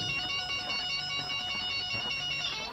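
A French telephone ringing steadily with a bright electronic warble, repeating trill after trill at a constant level for the whole stretch, close and clear with no voices.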